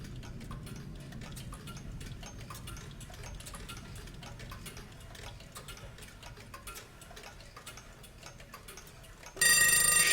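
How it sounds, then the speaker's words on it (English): Many clocks tick over one another in Pink Floyd's recording of "Time", a dense, busy patter at moderate volume, and a ringing alarm bursts in loudly at the very end. "Multiple clocks."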